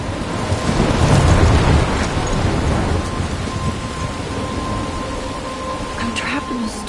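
A thunderstorm rolls over a coastal town near a lighthouse in the game Life is Strange, with heavy steady rain hissing over a deep thunder rumble that swells early and eases off, a voice speaking faintly beneath.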